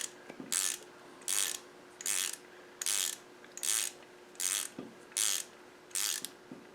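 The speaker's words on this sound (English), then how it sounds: "Right, let's just nip them down a bit." Hand ratchet nipping down the oil pump bolts on an R380 gearbox, giving eight evenly spaced bursts of close, crisp clicking with short pauses between strokes.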